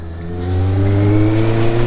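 Honda CBR650 motorcycle on stock Honda tyres accelerating hard, a loud close engine note climbing steadily in pitch as it revs, alone without talk.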